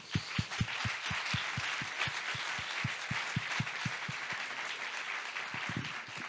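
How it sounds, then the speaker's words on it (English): An audience at the Global Citizen NOW summit in Sevilla applauds Spain's President Pedro Sánchez; a steady wash of distant crowd clapping, with a rhythmic series of regular low thumps running beneath it. "we are extremely grateful to the government of Spain, President Pedro Sánchez. Let's give him a round of applause."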